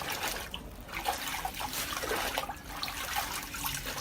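Leaves being rinsed in water as snail feed, with a close, continuous sloshing and trickling of water and small splashes, without speech.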